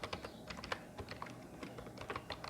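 Fast, irregular tapping on a computer keyboard as a time is entered during a sorting-algorithms lab practical. The keystrokes are steady, close and clear, with no voices.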